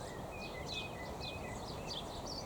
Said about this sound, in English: that sounds like a blackbird singing